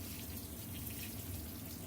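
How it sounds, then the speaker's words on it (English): Water poured from a watering can into a worm composting bin, about half a gallon, making a steady, continuous splashing rush that stays even and fairly quiet throughout, with no talking. "I'm going to add about a ½ gallon of water. I like to use a watering can because it's a whole lot faster than misting."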